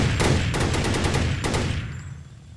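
Minecraft anti-aircraft guns hammer out a loud, rapid burst of shots that fades into a lingering rumble.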